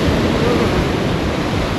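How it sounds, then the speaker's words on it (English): Waves wash and break over a reef at a beach at Horrocks, a loud, continuous rush of surf, with some wind buffeting. "the waves coming in over the reef"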